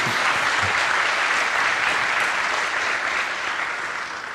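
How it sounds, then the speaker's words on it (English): A crowd claps steadily and loudly throughout, a dense wash of applause that tapers slightly near the end. "Can we give them a round of applause just for that, I think?"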